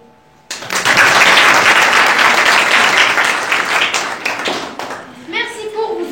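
Applause from a school class audience, a dense burst of many hands clapping that starts abruptly, holds loud for several seconds, then fades into a voice speaking near the end.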